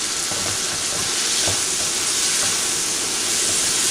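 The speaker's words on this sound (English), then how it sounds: "A teaspoon of coriander powder, and saute these on medium-high heat" Coriander powder and spices for chicken do pyaza sauté on medium-high heat, producing a loud, continuous hissing sizzle with a few soft stirring taps.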